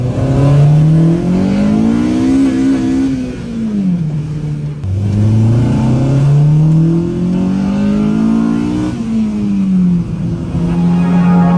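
A Mini car engine revving steadily and loudly up close, its pitch rising and falling in long sweeps over about eleven seconds with no talk.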